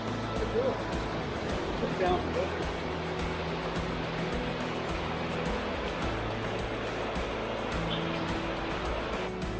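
A river runs past RV sites at Belknap Hot Springs in spring, making a steady, close, broadband rush of flowing water that continues unbroken throughout.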